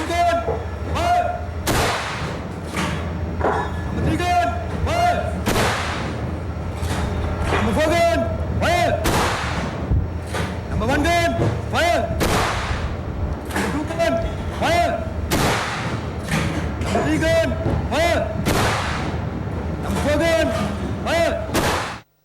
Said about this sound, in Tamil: 4 பீரங்கி குண்டுகள் உட்பட 25 துப்பாக்கி வேட்டுக்கள் தீர்க்கப்பட்டன.